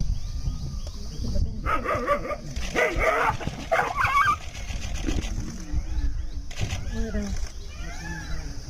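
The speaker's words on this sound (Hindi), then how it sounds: "उसके करीब एक कुत्ता आता है और अचानक ही भौंकने लगता है" A dog in Ranthambore forest barks and yips excitedly at a nearby tiger, its sharp calls mixed with whimpers over a steady outdoor background, with a narrator speaking throughout.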